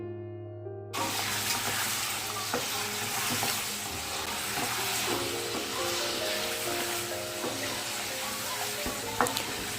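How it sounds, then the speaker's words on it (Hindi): Chicken frying for chicken karahi is stirred in a pan, a steady sizzle carrying on throughout with occasional scrapes and clicks of the spoon against the metal. "यहाँ पर साथ साथ में मैं चिकन भी चला लूँगी ताकि ये भी एक जले ना"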